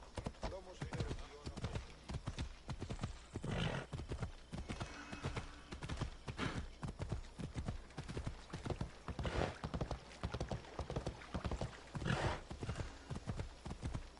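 Rapid, rhythmic hoofbeats of a horse galloping in the video game Assassin's Creed Odyssey, steady clip-clop pounding throughout with occasional whinnies and snorts mixed in.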